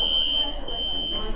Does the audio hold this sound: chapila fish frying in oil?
no